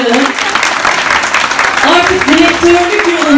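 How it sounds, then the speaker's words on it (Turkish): An audience at a company recognition event applauds senior advisors, a dense steady clapping throughout, while a voice speaks loudly over it. "en büyük alkışlar üst danışmanlarımıza"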